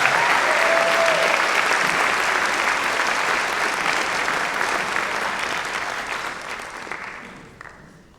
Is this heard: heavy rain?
no